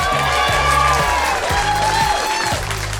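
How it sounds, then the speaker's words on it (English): Wedding guests cheer and applaud the couple, a dense, steady wash of clapping and crowd noise with whoops rising over it throughout. "let's literally cheer them across the finish line and into married life"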